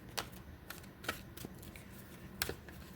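Several quick, crisp riffles of large tarot cards being shuffled, close by, with short papery bursts separated by brief pauses.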